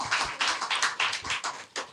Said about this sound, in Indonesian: boleh tepuk tangan dulu dong ibu-ibu